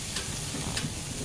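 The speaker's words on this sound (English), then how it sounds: "I went on with the ribeyes, and that sound, that sear was outstanding" Ribeye steaks sear on a screaming-hot smoker, giving a loud, close, continuous sizzle and crackle with a couple of brief hissing spits.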